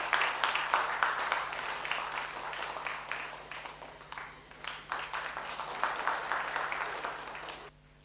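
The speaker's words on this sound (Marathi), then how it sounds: "त्यांनी टाळ्या वाजवायला काही हरकत नाहीये" An audience at a Thane cultural talk-show event claps to welcome a guest on stage, a sustained burst of many hands at moderate distance that swells, dips briefly midway, then tapers off near the end.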